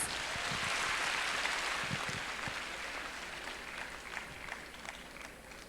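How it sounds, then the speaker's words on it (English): Students at a Teachers' Day celebration at Patna Women's College applaud the winners, a broad wash of hand claps filling a hall, strongest at first and tapering slightly toward the end. "Students, please clap for the winners."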